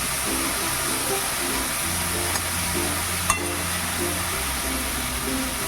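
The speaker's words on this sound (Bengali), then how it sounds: "এবার শাকগুলো বেগুনের সাথে আলু বেগুনের সাথে ভালো করে ভাজা হবে" Gime greens frying with potato and eggplant in a pan over medium-low heat, a steady close sizzle and hiss running throughout with a soft low hum underneath and a brief stirring knock.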